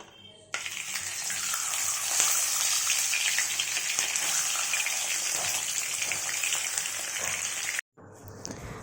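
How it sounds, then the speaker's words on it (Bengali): Pomfret fish, washed and rubbed with salt and turmeric, fry in a pan with a loud, continuous close sizzle and hiss that cuts off abruptly near the end before resuming more quietly. "আর এদিকে মাছ ভাজা হচ্ছে"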